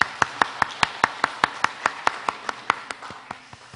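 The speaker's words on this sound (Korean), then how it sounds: "하나님께 영광의 박수 올려드리기를 소망합니다." A church congregation claps in steady unison, about five sharp claps per second for nearly four seconds, bright and evenly paced with no voices over it.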